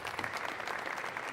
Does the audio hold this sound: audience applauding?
yes